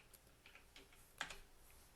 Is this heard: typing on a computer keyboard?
yes